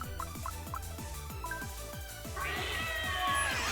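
A creature in a video game meows, with repeated short rhythmic cat-like calls over a musical backdrop that grows into a brighter, louder passage near the end.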